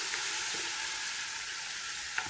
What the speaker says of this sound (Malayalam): ഇതെല്ലാം ഒന്ന് വാടി വരണേ അല്ലേ? ഇളക്കി കൊടുക്കുക.